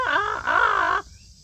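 Two loud, harsh pileated woodpecker calls in quick succession, nasal and wavering, close by, then silence.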